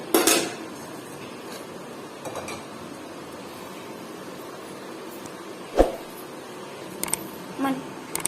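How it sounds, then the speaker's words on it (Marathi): A pressure cooker set down on a gas stove while puran poli is being prepared, with a sharp metallic clank at the start and a few lighter knocks and clinks of cookware after it, against quiet kitchen background. "तर पहिल्यांदा कुकर आपण गॅसवर ठेवूया।"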